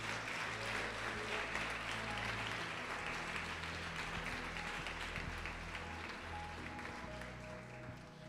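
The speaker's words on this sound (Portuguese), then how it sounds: "pode aplaudir o Senhor" Church congregation applauding during a sermon, a steady broad wash of clapping that holds at even loudness for the whole stretch, with low hum underneath and faint voices mixed in.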